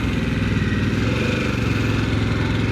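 A Harley-Davidson motorcycle engine runs steadily close by, a continuous throbbing, pulsing exhaust note at a constant idle or low cruise, with no one talking.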